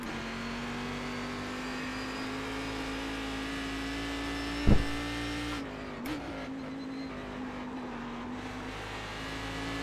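Cadillac CTS-V.R race car engine in iRacing at the Zolder circuit, a steady loud drone holding one pitch with long gears, a sharp bump near the middle and a brief dip as it lifts, then continues alone.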